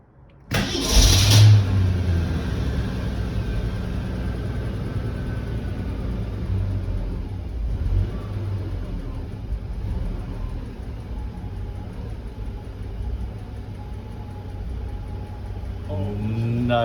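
A Ford Econoline engine fitted with Holley Sniper EFI cranks and catches with a loud burst, then settles into a steady, even idle that rumbles on close by.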